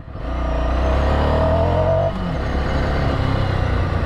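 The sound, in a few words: Ducati Scrambler Sixty2 motorcycle riding on dirt and gravel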